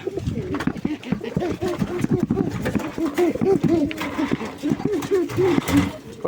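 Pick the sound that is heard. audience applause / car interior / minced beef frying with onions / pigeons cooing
pigeons cooing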